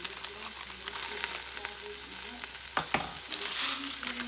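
Pot roast ingredients with onion soup mix are stirred in a pot, giving a continuous close sizzle with a few brief scraping strokes and no talking.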